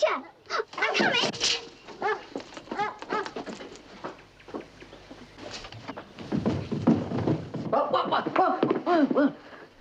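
A dog barks and whimpers in short, repeated bursts, fairly close, mixed with people talking over and between the yelps.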